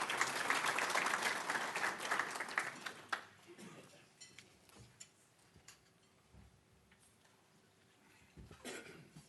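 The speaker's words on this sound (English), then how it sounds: "a round of applause, please?" Audience clapping at a teacher centre manager workshop, a dense, fairly loud burst of applause lasting about three seconds before fading into room noise, scattered shuffles and faint talk.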